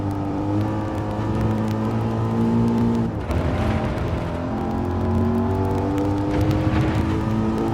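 Racing car engines from Gran Turismo 7 drone with sustained pitch, one engine note rising and falling as it chases a rival car, loud and continuous with a brief dip partway through.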